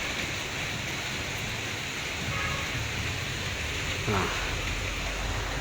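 Steady rain falls in a dense, even hiss outdoors at a fruit orchard, constant throughout with no breaks.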